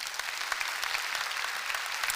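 Church congregation applauding during a Korean special dawn prayer service, a steady wash of many hands clapping at moderate distance, continuous and fairly even with no talk over it.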